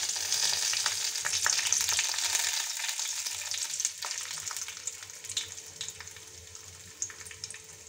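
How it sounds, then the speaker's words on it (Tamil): Mustard seeds, fenugreek, asafoetida and dried red chillies crackle and sizzle steadily in hot oil for a sambar tempering, a close, continuous frying hiss with small pops scattered throughout. "இப்போது சாம்பார் தாளிச்சிடலாம்"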